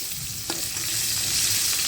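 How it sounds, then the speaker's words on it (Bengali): Thickly cut onions sizzle and crackle in hot oil, a steady close hiss with a brief clink of stirring, no voices. "তো পেঁয়াজটা ভাজা হোক"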